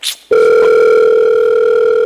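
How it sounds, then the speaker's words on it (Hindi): A telephone sounds in a Bollywood cast comedy scene: a short burst of noise, then a loud, steady electronic phone tone that holds unbroken to the end. "सर आपका फोन आ रहा है"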